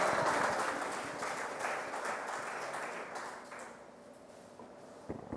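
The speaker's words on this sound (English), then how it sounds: "Can we give her another round of applause" Applause for Cheryl Reed at a town hall meeting, a full round of clapping from the audience that starts strong and gradually thins and fades out.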